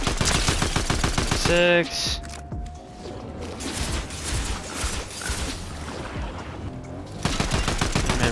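A mythic weapon in Fortnite firing a rapid, dense burst, then a pause filled with clattering game effects, then another fast burst at the end; a voice briefly speaks a single word.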